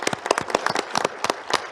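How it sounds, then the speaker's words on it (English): Sparse, distinct handclaps from a small group at a National Council session, a quick irregular patter of sharp individual claps close by, with no talking. "Let's give a round of applause."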